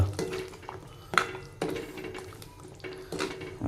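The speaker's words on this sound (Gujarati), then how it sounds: "આપણે હવે નાખી દઈએ કચોરી તો અંદર કચોરી જવા દઈએ અને હલાવી નાખીએ મસ્ત" A spoon stirring kachori into a gravy in a pan, giving soft scraping strokes and a few sharper knocks against the pan at an uneven pace, close but fairly quiet, with no talking.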